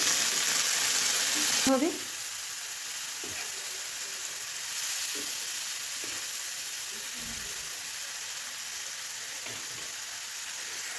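Spices fry in a pan with a little water, a loud sizzling burst as the water hits, then a steady softer hiss and bubbling with occasional stirring taps; a voice speaks briefly.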